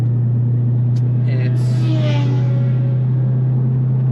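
A 13-year-old BMW E90 M3 with a V8 engine being driven, heard from inside as a loud, steady low engine drone with faint faster whirring above it.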